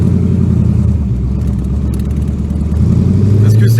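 Ford AC Cobra engine rumbling loudly and steadily as the car pulls away, a deep continuous drone that swells toward the end, heard from up close.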